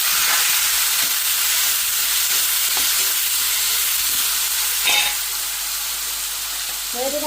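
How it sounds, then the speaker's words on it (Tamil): Fish frying in hot oil in a home kitchen, a steady loud sizzle and hiss throughout with a few faint clinks, no talk over it. "இந்த மீனையும் பொறிக்குவோம்"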